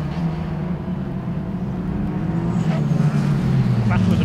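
BMW Mini rallycross cars race at a 2021 BTRDA Rallycross Championship round, their engines droning steadily at mid distance with rising and falling tones, while a commentator talks over the noise.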